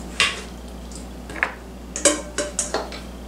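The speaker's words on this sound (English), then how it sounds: "Next, we're gonna add our burger back in." Cooked ground beef is tipped back into an Instant Pot for a pasta dish, making a handful of sharp utensil clinks and scrapes against the metal pot, spaced irregularly over a low background hum.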